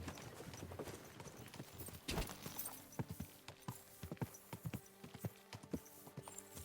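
Horses of a trader caravan passing on a road in Kingdom Come 2: steady clip-clop of several hooves at moderate distance, irregular overlapping footfalls with creaks and a brief louder thump.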